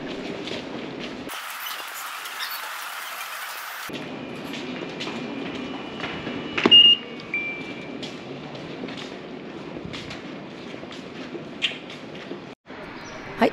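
Chichibu Railway commuter train bound for Kumagaya standing at the platform of a station, with a low steady rumble, footsteps, and a brief louder clatter midway amid ambient station noise.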